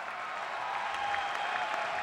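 Steady applause from an arena crowd at an MMA bout between Eric Marriott and Jared Downing, a continuous broadband clapping wash at even loudness throughout.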